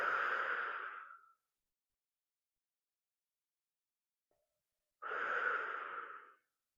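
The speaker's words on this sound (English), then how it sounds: "I want you to just release that out to the Father with your exhale." Two slow, breathy exhales during a guided emotional-release breathing exercise, each about a second long, separated by several seconds of silence, close and soft.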